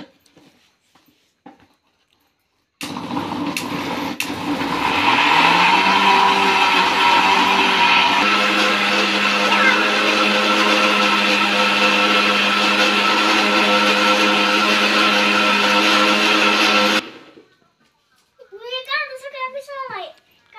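An electric blender finely grinds onion for palak paneer with a loud, steady whirring drone that runs for about fourteen seconds before stopping abruptly. Faint sounds come before it, and a voice follows afterward.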